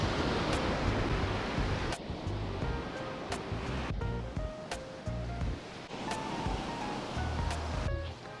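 Ocean surf rolls onto the beach at an adult-only all-inclusive resort in Costa Mujeres, Mexico, with a steady wash of breaking waves and several louder swells spaced a couple of seconds apart, close and continuous with no talking.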